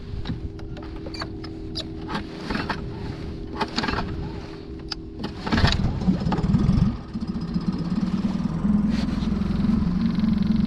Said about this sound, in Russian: Мотор четырехтактник.